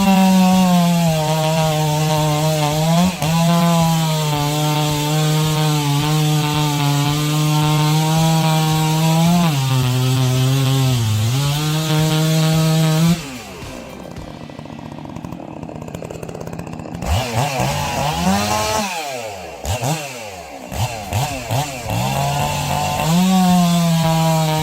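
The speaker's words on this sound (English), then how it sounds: "Its 118cc engine and 42-inch cutting bar tackle the largest logs with ease." A large chainsaw with a 118cc engine and 42-inch bar cutting through big logs: a loud, sustained engine buzz that rises and dips in pitch as the chain bites, drops out briefly midway, then revs back up.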